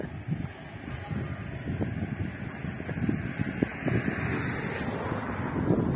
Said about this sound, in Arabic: هذا البحر